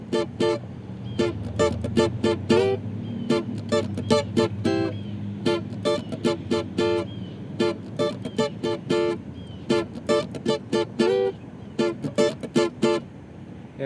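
Electric or acoustic guitar strums the verse chord progression of a song in short, choppy rhythmic stabs, steady and close, with a low sustained backing underneath and no talking.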